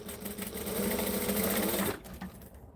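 Sewing machine running steadily as it stitches fabric, a continuous close mechanical whir that stops near the end.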